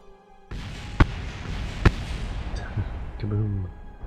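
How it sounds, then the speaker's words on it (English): A spent rocket stage comes down in Kerbal Space Program, with two sharp, separate impact thuds standing out over a steady low rumble and a few fainter knocks near the end. "there's our previous stage about to crash into something"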